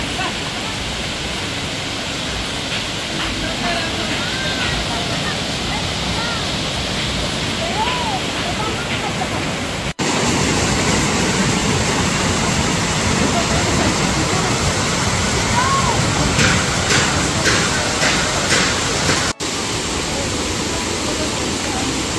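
Waterfall in Casiguran, Aurora, seen from a viewing deck: a steady, loud broadband rush of falling water runs throughout, with faint voices and birds in the background.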